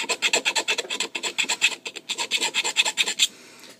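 Hand file worked lightly over a piece, giving a steady run of dry rasping strokes, about a dozen close, even passes, then a brief pause before a few more strokes and a quiet stop.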